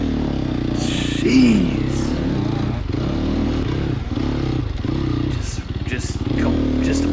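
A Sherco 300 SEF dirt bike engine revs and bogs as it churns through sand at an off-road race, close and loud, with bursts of throttle and clatter; the rider speaks briefly.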